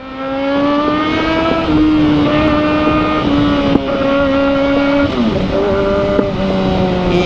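Kawasaki ZX-4RR motorcycle exhaust revving close up, a loud, steady high-pitched engine whine that holds then dips and climbs again in several throttle blips, with no talking.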